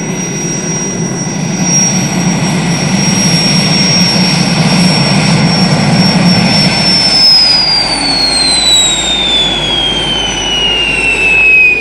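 A jet-powered helijet landing, from the Joe 90 puppet series, roars loud and steady throughout with a high whining turbine tone that slides downward partway through as the engine winds down.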